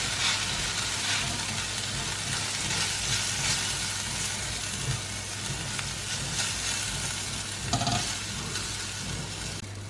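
Potato sandwich filling with cumin powder and chaat masala stirred in a hot frying pan, a constant dense sizzle and crackle with occasional scraping, steady throughout and no talking.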